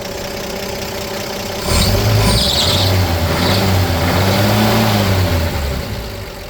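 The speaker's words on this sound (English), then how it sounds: "A touch of a squeak in the belt." A 1952 Chevrolet 3100 shortbed pickup engine running up close, fitted with an alternator, with a steady rumble and a faint squeaking drive belt chirping over it, no talking.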